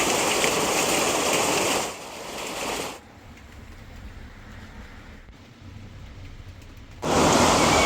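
Steady rain hisses loudly outside near a retro car being welded. It drops to a quieter patter in the middle and then returns at full strength.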